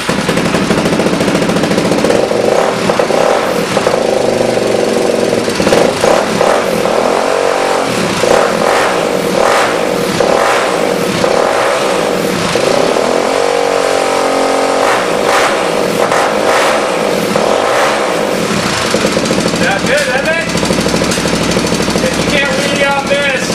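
A Suzuki DRZ 400 dirt bike engine runs loud and close, its note rising and falling in repeated revs over a steady idle, with someone speaking over it.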